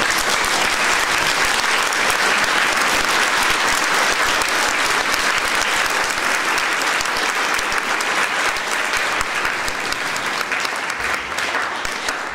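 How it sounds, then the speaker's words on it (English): A school band audience applauds its lettering students, a steady dense roar of clapping that stays loud and even from start to finish with no break. "if you lettered this year, stand up so we can applaud you"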